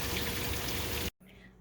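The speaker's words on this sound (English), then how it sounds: "The lightning has slowed down and the heavy rain has come behind it." Heavy rain pours down in the wake of a thunderstorm, a dense, loud steady hiss that cuts off abruptly near the end, leaving a quieter background.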